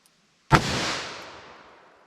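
A single loud, close handgun shot from a heavy 147-grain .357 Magnum load, fired at a range, with a sharp crack followed by a long ringing decay that trails off over about a second and a half.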